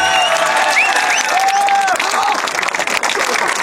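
Applause and cheering from a group of friends wrapping up a day of approaching people from a car, a dense continuous clatter of claps with whoops and voices on top, loud and close throughout.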